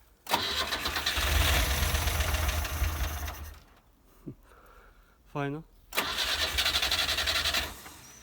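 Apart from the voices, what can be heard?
old car engine starting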